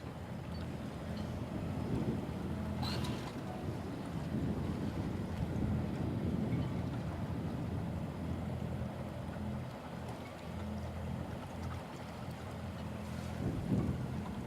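A Freedom 40/40 sailboat motors out of a harbor at about 1700 RPM and 4.5 knots, giving a steady low engine drone mixed with wind buffeting on the microphone and water wash, with no one talking.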